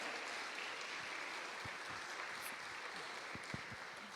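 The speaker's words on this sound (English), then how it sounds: "Give her a round of applause." An audience at an event gives a speaker a round of applause, steady, somewhat distant and fairly quiet clapping with a few scattered louder claps.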